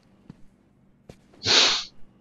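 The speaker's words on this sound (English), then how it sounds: "Sorry if I sniffle a bunch." One short, sharp sniff, close to the mic and fairly loud, comes after a couple of faint clicks; nobody speaks.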